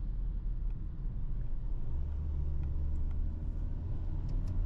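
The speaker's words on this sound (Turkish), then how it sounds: "Araba güzel gidiyor." A 2022 VW Transporter TDI van cruises on a highway, heard from inside as a steady low rumble of engine and road noise that stays even throughout.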